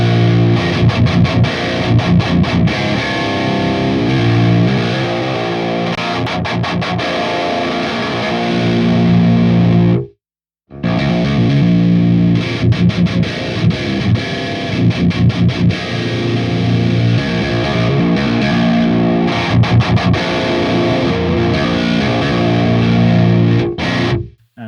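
A heavily distorted metal electric guitar played through the Audio Assault Hellbeast amp plugin with the bass knob being adjusted, loud dense chugging riffs and chords with one brief gap, no voices.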